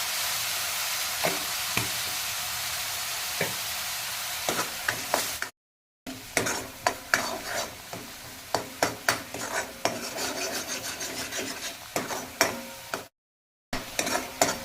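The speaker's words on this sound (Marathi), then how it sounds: "कांद्याची पेस्ट लालसर होईपर्यंत चांगली परतून घ्यायची याच्यामध्ये" Onion paste with a pinch of salt fries in a pan, a steady close sizzle broken by frequent sharp spatula scrapes and stirring clinks, cutting out briefly twice, with no one speaking.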